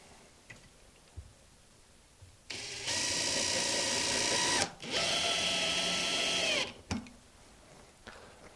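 A power screwdriver drives pan-head screws into an LED panel frame, two close, steady whirring bursts of a few seconds each with a brief pause between, framed by quiet clicks.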